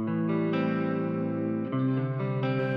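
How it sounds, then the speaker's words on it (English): A sustained synth or keyboard music track with a reverb effect runs continuously with held chords, shifting notes around the middle and again near the end, loud and without voices. "I'm going to add a reverb to the duplicated track."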